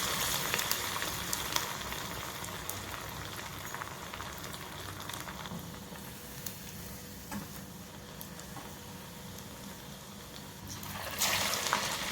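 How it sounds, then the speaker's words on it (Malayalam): Vada made from puffed rice sizzles steadily in hot oil on a flame turned below medium, a soft, even crackling fry with a brief louder burst near the end. "ഓയിൽ നല്ലോണം തിളച്ച് വന്നിട്ടുണ്ട് അപ്പോൾ ഫ്ലെയിം ഒന്ന് കുറച്ച് വയ്ക്കുക മീഡിയത്തിനേക്കാളും കുറച്ച് താഴെ ആവാൻ പാടുള്ളൂ ഷേപ്പാക്കി വെച്ചിരിക്കുന്ന വട ഇതിലേക്ക് ഇട്ട് കൊടുക്കാം"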